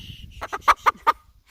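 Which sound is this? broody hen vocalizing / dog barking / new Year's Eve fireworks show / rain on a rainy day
broody hen vocalizing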